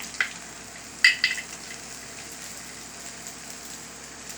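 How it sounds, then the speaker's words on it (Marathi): Eggplant frying in oil with onions in a pan, a soft low sizzle with a couple of brief stirring clinks and scrapes near the start. "त्याच्यात तेलामध्ये हे वांगे टाकलेले आहेत. व्यवस्थित हे तेलावर छान त्या कांद्याबरोबर हलवून घ्यायचे आपल्याला."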